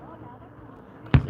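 A starburst firework shell bursts once near the end, a sharp thudding pop rising out of quiet background murmur.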